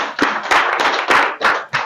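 A small audience at a community talk in Kariobangi claps in several loud, uneven bursts, close and sharp, with short gaps between the rounds of claps.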